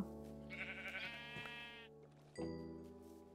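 Two quavering Minecraft sheep bleats, the first long and wavering, the second shorter after a brief pause, clean and close.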